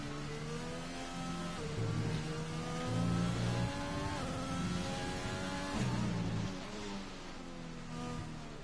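A McLaren Formula 1 car engine on a lap in an F1 racing game, revving high with repeated gear shifts and rising and falling pitch as it accelerates and brakes through corners.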